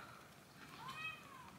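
A pet cat gives a single faint, rising meow indoors, quiet and brief against a soft room background.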